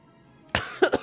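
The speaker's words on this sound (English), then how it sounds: "excuse me for coughing into the microphone" A single sharp cough burst close to a microphone, followed by two shorter throat-clearing coughs in quick succession, breaking an otherwise quiet pause during a Ni no Kuni: Wrath of the White Witch gameplay session.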